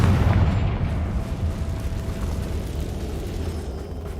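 A deep rumbling blast from the Confringo fire spell in Hogwarts Legacy, loud at the start and then fading into a long, low, roaring decay.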